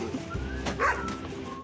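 A puppy hiding under a shed gives a short high whine and yip, close and fairly clear over a faint background hum.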